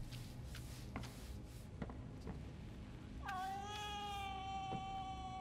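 A cat meows in the video game Crime Scene Cleaner, one clear rising-then-falling tonal call about midway, over faint game background noise and soft shuffling.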